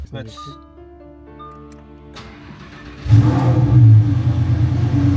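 Dashboard chimes and electronic tones ring, with an engine system management fault, then a twin-turbo Lamborghini engine cranks and roars to life with a loud, deep rev.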